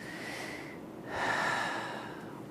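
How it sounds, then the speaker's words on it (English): A singing teacher demonstrates high chest breathing: a short audible airy inhale, a brief pause, then a louder, longer rushing exhale that fades, close and alone with no talking. "Here's high chest breathing that we should not use."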